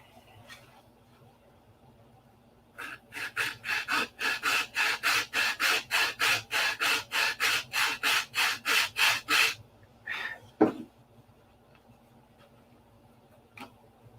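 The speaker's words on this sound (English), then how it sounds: "I need to sand it." A P-47 Razorback model is sanded by hand in about twenty quick, even back-and-forth strokes, close and rasping, followed by a few scattered scrapes and taps in an otherwise quiet room.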